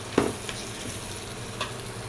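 Spice paste for a fish curry being stir-fried in a pan: a steady sizzle with a few sharp scraping strokes from the spoon, close and fairly loud.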